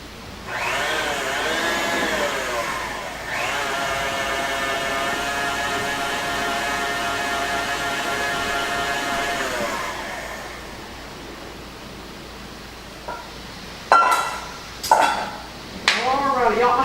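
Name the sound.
KitchenAid stand mixer running at low speed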